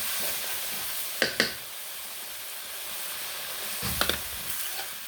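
Ground spices, including dried chili and coriander powder, sizzle and hiss steadily in a pan while being fried for a rui fish and water lily stem curry, with a few brief clinks of stirring and no talking.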